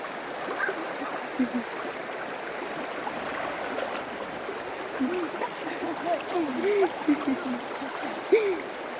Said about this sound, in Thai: น้ำไหลพี่น้อง